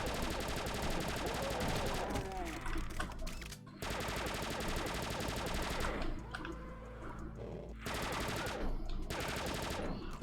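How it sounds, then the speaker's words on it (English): Repeated firing from a laser shotgun in Doom 2 with mods, dense rapid volleys in long stretches broken by brief gaps, loud and continuous game audio. "It was the laser shotgun"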